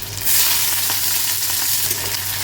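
Onions hit hot oil that already holds garlic and green chili, setting off a loud, dense, steady sizzle that fills the whole short stretch, close and without any talk.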